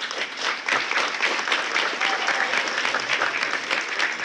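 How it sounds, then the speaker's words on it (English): A school awards night audience applauds parents and grandparents, a dense, steady wash of many hands clapping close by, sustained without a break throughout. "why don't you give your parents and grandparents a nice round of applause."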